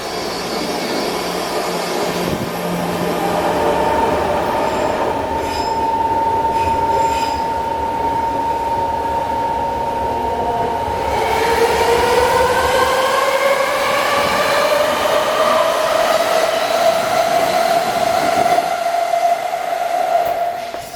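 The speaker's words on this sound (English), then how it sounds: "time to catch a BART train to Civic Center." A BART train runs from Millbrae toward Civic Center with a continuous rumble and a long, high wheel squeal on the rails that slides in pitch, steady and close from the inside of the car.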